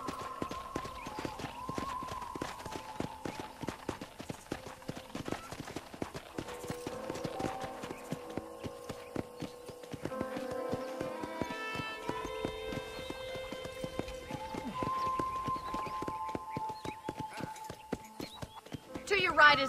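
Horse hooves clip-clop in a steady trotting rhythm while riding through a ranch in Red Dead Redemption, with occasional whinnies and characters talking over the hoofbeats.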